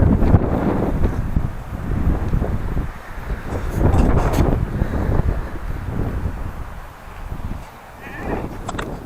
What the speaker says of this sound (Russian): Ветер поднялся вообще